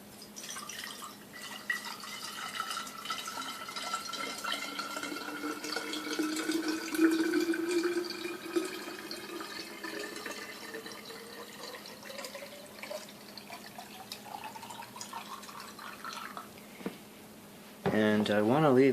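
Distilled water pours into a pitcher in a long, steady trickle whose pitch rises as the vessel fills, ending in a brief louder splash, with talk over parts of it.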